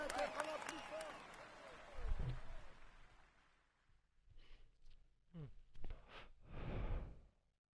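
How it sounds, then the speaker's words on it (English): Crowd applause for the polka dot jersey winner at a Tour de France 2016 video game podium ceremony, a loud burst of clapping over music that fades within a few seconds before voices talk. "Come on, let's applaud him once more."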